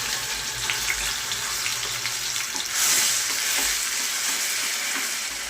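Onion puree frying in hot oil in a pan, a dense continuous sizzle that holds steady and swells slightly midway, close and without any talk.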